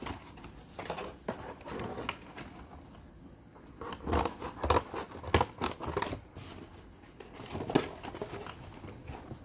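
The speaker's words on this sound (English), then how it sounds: "So I'm gonna cut this. Cut the little circle over here." Scissors cut a small circle out of faux floral material. Irregular close snips come with papery crinkling and rustling, growing busier and louder midway.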